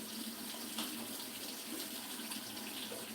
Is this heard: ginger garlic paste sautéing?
no